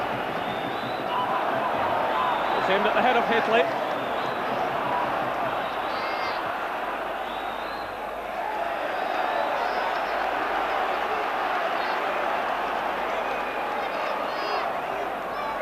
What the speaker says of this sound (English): this huge crowd again getting right behind the Rangers team